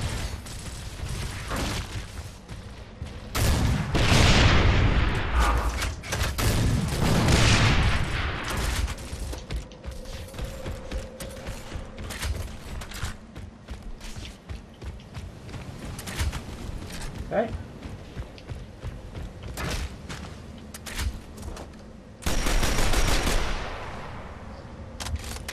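Heavy gunfire in a Gears of War Ultimate Edition multiplayer match on Gridlock, loud rattling bursts and mechanical clatter coming in waves over a long stretch, with a voice talking at times.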